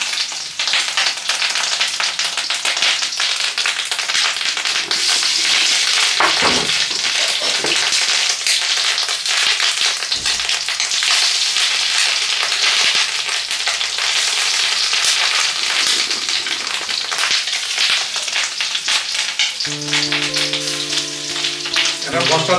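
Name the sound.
fish roe fritters frying in hot oil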